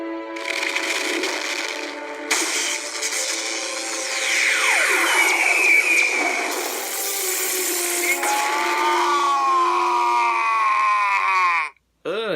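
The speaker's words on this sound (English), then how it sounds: "that scream is so ugly" A loud, drawn-out scream from an animated Death Battle fight between Tigerzord and Gundam Epyon, with wavering, sweeping pitch over crashing, grinding battle effects and a sudden brief cut near the end.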